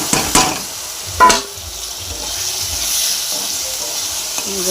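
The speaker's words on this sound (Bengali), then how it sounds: "আলু লাল লাল করে ভেজে নিচ্ছি, লাল লাল করে ভেজে নিতে হবে। মশলা দিয়ে দিলাম" Potatoes frying with spices in a pan, a steady sizzling hiss with a few sharp scrapes and clatters from stirring near the start, then a soft, even fry.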